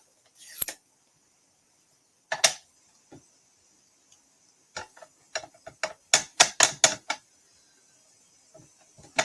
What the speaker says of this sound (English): this time I'm going to stamp the tree in early espresso